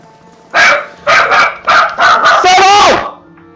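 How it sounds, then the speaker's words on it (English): A dog barks loudly and close in a video game, Pillars of Eternity, giving four sharp barks and then a longer, drawn-out bark that trails off into a whine. "He's just barking cause Granny called."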